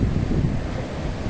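Rough sea waves crash and wash against the shore, a short burst of dense, loud surf roar mixed with wind noise and no voices.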